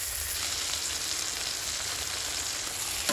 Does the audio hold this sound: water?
no